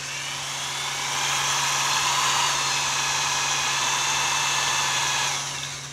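A Denso hairpin alternator with a GM-style regulator is spun up slowly on a test setup, giving a steady high whirring hum that swells and holds at an even pitch before easing off.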